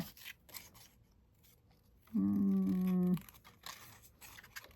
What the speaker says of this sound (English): So I'm going to fussy cut this, and I'm a fussy cutter